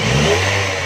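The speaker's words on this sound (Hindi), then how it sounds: "ज़रा रेस दे।" A CNG-fitted car engine revs briefly and steadily, a close, loud mid-pitched roar with a droning low hum and no voices over it.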